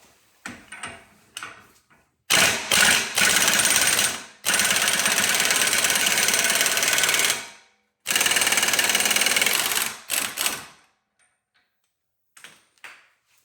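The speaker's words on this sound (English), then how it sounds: "So now I'm going to undo this axle nut." Axle nut on a 2015 Ford Mustang's rear suspension being undone with a normal socket on a rattling impact gun, in three loud sustained bursts of hammering with short gaps between them and quieter clanks before and after.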